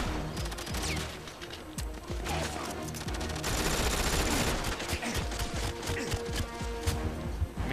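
Rapid gunfire from the video game 007 GoldenEye Reloaded, sustained bursts of automatic fire and crackling shots layered densely with game sound effects, loud and continuous without pause.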